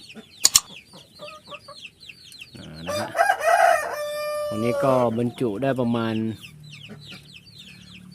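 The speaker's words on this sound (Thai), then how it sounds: "เสร็จเรียบร้อยกงอนุบาลลูกไก่งวงกับไก่ชนนะครับ" Chickens cluck and a gamecock crows on a farm where turkey chicks and gamecock chicks are being raised, with several nearby crows and clucks over faint chirping, plus someone speaking Thai briefly at the start and end.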